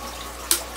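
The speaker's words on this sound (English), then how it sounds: "I push a button, it sucks the water through here" Eheim Quick Vac automatic gravel cleaner drawing aquarium water through its tube, a faint steady watery hiss with one brief louder gurgling surge near the end, close by with no talk.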